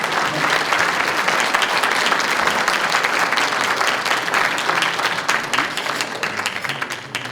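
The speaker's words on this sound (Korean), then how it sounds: "박수 부탁드립니다" Loud, sustained applause from a large crowd at a Republic of China anniversary ceremony in Korea, thick overlapping claps that stay strong and begin to thin slightly toward the end.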